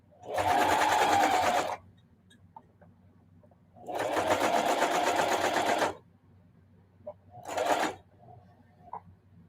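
A sewing machine machine quilting a holiday wall hanging, running in three loud close bursts of rapid buzzing stitching separated by pauses, the last burst shortest.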